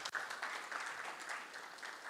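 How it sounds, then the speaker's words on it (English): Audience clapping for a young agricultural contestant at the Ayute Africa Challenge gala dinner in Uganda, with steady, moderately distant applause filling the room for a couple of seconds. "Let's clap for Mr. Segawa."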